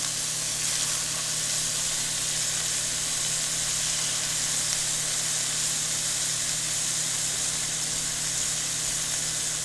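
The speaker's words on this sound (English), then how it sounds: "All right, so I have the steaks cooking." Steaks searing in a hot pan, a steady broad hiss and sizzle running continuously and evenly throughout, fairly close and without talk.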